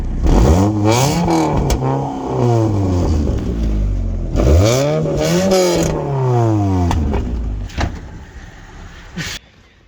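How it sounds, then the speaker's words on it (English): A turbocharged 4G93 Lancer engine revs hard several times, rising and falling in pitch, loud and close, with a turbo whoosh between the throttle blips. "we'll start her up, have a little sound, we'll have a listen"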